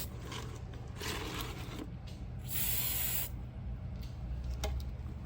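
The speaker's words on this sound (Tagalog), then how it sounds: "Hindi maganda yung spray. Masyadong matubig yun." Decoration spray hisses onto a Christmas cone for a party decor contest, in a few separate bursts, the longest near the middle and strongest, with faint rubbing and handling noise between them.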